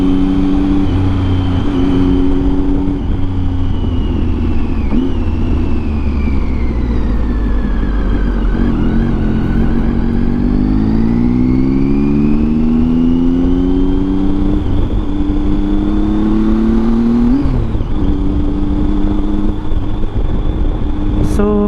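A Triumph Tiger 800 three-cylinder adventure bike fitted with a Yoshimura exhaust, ridden over a rough potholed road, its engine loud and close, revving up and down through gears with steady wind noise.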